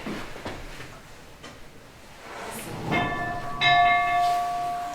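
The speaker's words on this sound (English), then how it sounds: "That is attached to the bell that you heard when you were outside." Schoolhouse bell rung by pulling its rope, a few clear metallic rings swelling near the end and lingering with a sustained ringing tone.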